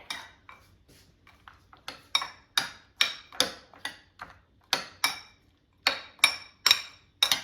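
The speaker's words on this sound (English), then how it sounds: "And now just mix it together." A spoon stirs cottage cheese, pineapple and walnuts together in a bowl, giving quiet scraping broken by a steady run of sharp, close clinks against the bowl's side.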